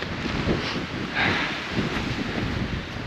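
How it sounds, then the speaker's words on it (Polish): Strong winter wind on Śnieżka mountain buffets the microphone in a continuous rushing roar, swelling and easing in waves with no voices. "Zaczyna wiać coraz bardziej."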